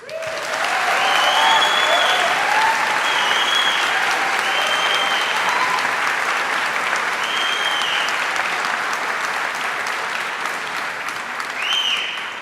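Sustained applause from a large audience at an advertising awards event, dense and steady for about twelve seconds with a brief swell near the end, no talking over it.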